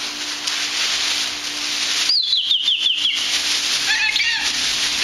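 A bird caught in a bag chirps in a short burst of high, quick notes partway through, following a stretch of steady hiss, with a softer trailing call near the end.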